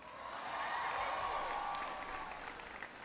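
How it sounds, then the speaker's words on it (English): A crowd applauds steadily at a presidential speech on education and the economy, a broad even wash of clapping that holds for a few seconds at moderate distance. "Give Brian a big round of applause for the introduction"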